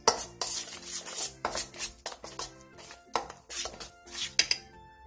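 Ground seasoning, chili powder, sugar and sea salt being mixed by hand in a bowl for a cucumber side dish, with repeated clinks and scrapes of utensils against the bowl in an uneven rhythm, close and clear, no talking.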